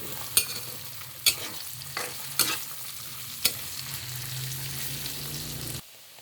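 Hotdog and onion frying in a pan, a steady sizzle broken by four sharp utensil clacks against the pan as it is stirred, ending in an abrupt quieter tail.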